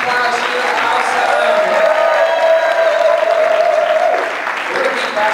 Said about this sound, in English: Let's give Joe a round of applause.